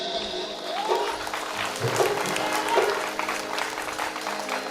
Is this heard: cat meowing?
no